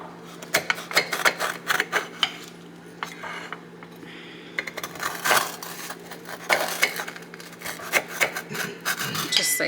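A knife cuts through frozen protein s'mores on a board, with repeated scraping, rasping strokes and small clacks in an uneven rhythm, close and fairly clear over a steady low hum.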